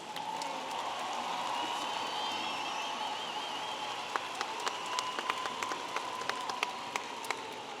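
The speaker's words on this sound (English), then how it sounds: "please join me in a round of applause for the baccalaureate graduates" Sustained applause from a university commencement crowd for graduating students, a broad steady patter that thins out toward the end as a few distinct close claps stand out.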